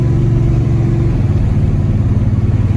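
A second-generation Dodge Ram 1500 with a Magnum V8 stroker motor and homemade exhaust drives a back road, heard with the window open as a steady, deep, throaty drone that is loud but even.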